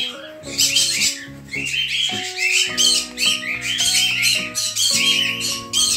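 Exotic pet birds, including African greys, fill a bird shop with loud, overlapping squawks, shrill calls and chirps, dense and close throughout with no talking.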